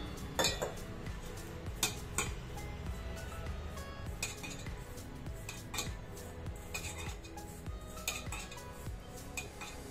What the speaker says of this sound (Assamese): মই অলপ ৰিফাইন তেল দিলো এয়া মই গোটেইখিনি মিক্স কৰি লৈছো